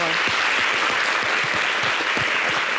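Loud, dense applause from a TV studio audience on a French-language talk show, steady and continuous with individual claps audible up close.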